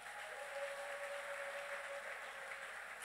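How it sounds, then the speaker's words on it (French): A church congregation applauds and cheers to welcome people arriving at the service, a steady, dense wash of clapping sustained throughout with no break. "Nous les accompagnons avec nos acclamations."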